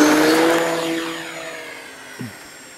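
An RC model airplane takes off and flies downwind at a fly-in, its small engine whining as it passes and the pitch sliding down as it fades away, with a brief sharp sound near the end.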